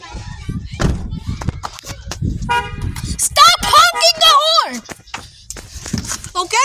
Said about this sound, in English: Stop honking the horn!